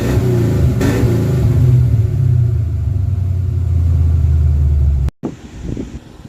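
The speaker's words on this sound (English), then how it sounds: "A little bit more rumble without tailpipes." Ford Mustang fitted with a Mac Pro Chamber exhaust and the tailpipes removed, giving a steady, deep, loud idle rumble that carries on unbroken before cutting off abruptly near the end, leaving quieter background noise.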